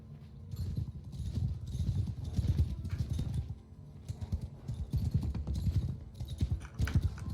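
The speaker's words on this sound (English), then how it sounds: "Oh, look at all those horses." Cavalry horses thundering across a battlefield in the video game Bannerlord, a dense, continuous rumble of many hooves drumming close and loud for several seconds with a few surges.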